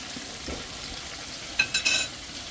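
Pieces of chicken drop into hot oil with a sudden burst of sizzling and crackling, after a moment of quieter stirring.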